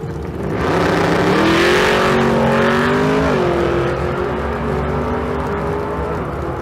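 A drag racing car, either a 1963 Nova with a 421 cubic inch engine or a 2007 Ford GT500, revs loudly and holds a steady high-pitched engine roar close by, rising and sweeping in pitch, with no one talking.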